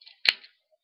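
Transformers movie toy figure firing its spring-loaded missile: a single sharp plastic click-snap, close and brief, with a tiny tick just before and silence after.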